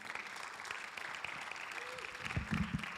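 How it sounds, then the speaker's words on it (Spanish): Congregation applauding during a church service, a steady wash of clapping that grows slightly louder near the end, with a voice speaking over it. "dale un aplauso al Señor."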